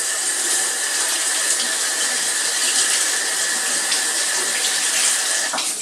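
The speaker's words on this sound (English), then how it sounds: "I'm going to rinse it in cold water, just for not too long" Cold tap water runs steadily over chopped onion in a kitchen sink, a loud continuous splashing rush with no break and no voices.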